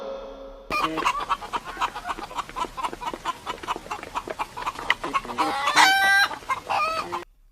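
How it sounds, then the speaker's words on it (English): A hen clucks in quick, busy chatter, a steady run of short calls rising to a louder squawk near the end, close by. "H for hen."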